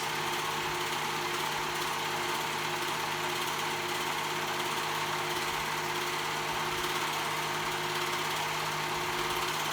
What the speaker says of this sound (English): I'm going to go ahead and serge that raw edge